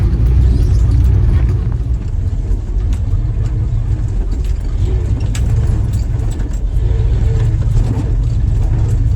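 An old Jeep engine in four-wheel drive crawls over big rocks off road, giving a steady, loud low rumble with faint clinks and rattles throughout.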